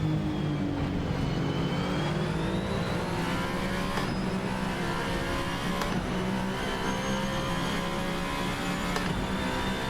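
A racing car engine, the Arden V24 driven in Assetto Corsa, drones steadily and loudly with a sustained harmonic whine, shifting in pitch as it revs, alone with no talk.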